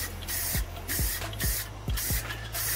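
Short bursts of aerosol spray paint coating a Dollar Tree glass vase, five quick hissing passes in a steady rhythm, close and fairly quiet, with no talking.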